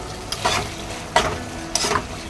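Chopped green chillies stirred through a hot chilli paneer sauce in a pan, giving a steady sizzle broken by three brief bursts of scraping and stirring, close and alone with no talk.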